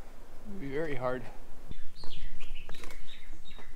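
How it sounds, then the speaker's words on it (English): Birds chirp in short bright calls near Preacher's Cave on Eleuthera in the Bahamas, scattered and moderately close, with people talking over them outdoors. "If you listen, you can hear the birds chirping."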